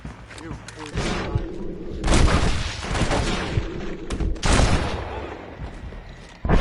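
Gunfire from a Red Dead Redemption shootout, with repeated loud shots and bursts mixed under frequent shouted dialogue and action noise.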